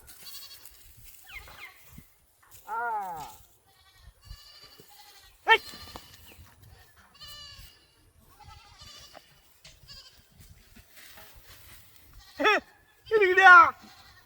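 A goat bleats in a handful of wavering, nasal calls spread across the stretch, the last two close together and loudest, with quiet murmuring voices and faint rustle between them.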